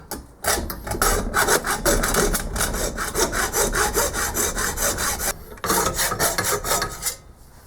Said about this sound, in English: using the bandsaw on the rough castings is bad for the blade